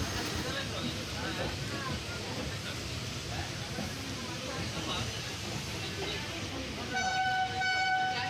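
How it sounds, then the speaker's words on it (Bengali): A passenger train pulls out of a station on a summer morning, a steady rumbling rail noise throughout, with a horn-like tone sounding near the end. "তো এই যে ট্রেন ছেড়ে দিয়েছে, একদম ঠিক টাইমেই ট্রেন ছেড়েছে।"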